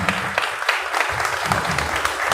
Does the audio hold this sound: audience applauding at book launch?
yes